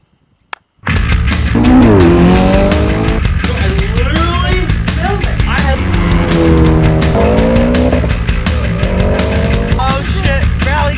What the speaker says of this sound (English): Oh shit, rally car!